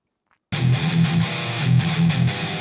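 Electric guitar plays through the other channel of a Line 6 Spider II 2x12 75-watt amp, set for thrash metal. Loud, bass-heavy distorted riffing enters abruptly after a short silence and chugs rhythmically without pause.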